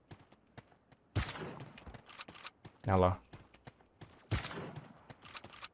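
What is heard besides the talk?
gunfire in Sausage Man video game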